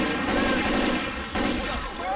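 Rapid gunfire from a weapon in Left 4 Dead 2's Parish campaign, a dense, continuous volley of loud shots with a brief break partway through.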